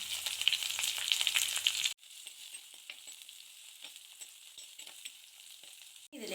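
Crushed shallots hitting hot oil in a clay pot for Kerala-style fish curry, starting with a loud, crackling burst that settles into a steady, softer sizzle with faint stirring.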